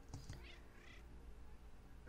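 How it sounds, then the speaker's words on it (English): A cat meows in the video game Irrational, with a short vocal cry near the start followed by a drawn-out, wavering call, heard alone over a low background hum. "That sounds a lot like my cat,"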